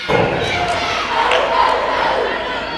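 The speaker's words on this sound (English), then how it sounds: "You really see this crowd getting hyped up over that kill." Crowd at a high school volleyball match between Glenbard East and Naperville Central cheering loudly and steadily after a kill, a dense roar filling the gym with scattered shouts throughout.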